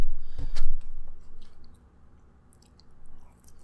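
A McDonald's breakfast sausage patty being chewed up close: one sharp, loud bite near the start, then softer, quieter mouth-chewing that fades and recurs faintly.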